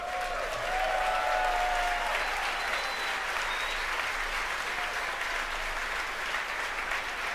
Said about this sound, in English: You can hear the applause behind me as we've gotten past maximum dynamic pressure.